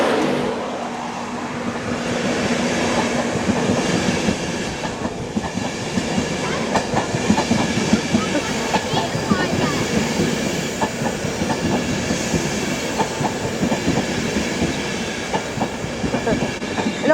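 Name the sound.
train passing at York station, 91101 Flying Scotsman livery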